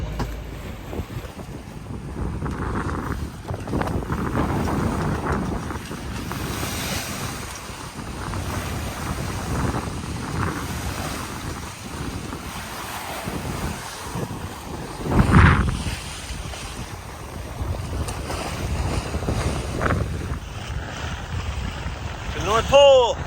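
A sailboat under jib and mainsail at about 7 knots in 12 to 13 knots of wind, with constant wind buffeting the microphone, water rushing along the hull and occasional louder gusts and splashes.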